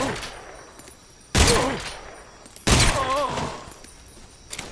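Two loud gunshot bursts from Metal Gear Solid Delta: Snake Eater, a few seconds apart, each with a sharp attack and a ringing tail over faint game ambience.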